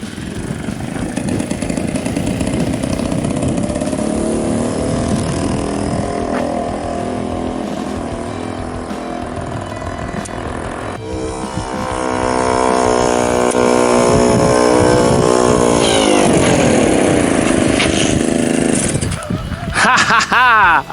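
A Solex 3800 moped engine on a Motobécane MX21 frame starts up and runs, its buzzing two-stroke drone rising and steadying, with people talking nearby throughout.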